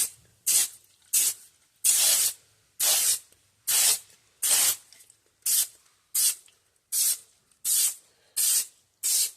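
An aerosol can of contact adhesive sprays glue onto plastic laminate, with plywood or cardboard behind it, in a dozen short sharp hissing bursts at a steady rhythm, each about half a second long with brief silences between.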